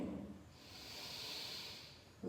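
Slow, deep breathing during a stress-relief yoga session: one soft, airy breath drawn out over about two seconds, very quiet and close, with no talk.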